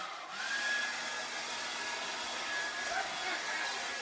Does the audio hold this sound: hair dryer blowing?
yes